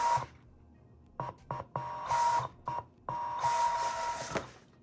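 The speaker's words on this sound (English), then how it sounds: "I have the vinyl loaded in the machine. Just gonna roll it through." A Siser Romeo vinyl cutter feeding vinyl through its rollers, giving several short mechanical whirs of varying length with quiet gaps between, then a longer steady run, all close by.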